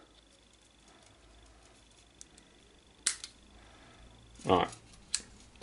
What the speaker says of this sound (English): Snip off the tag end.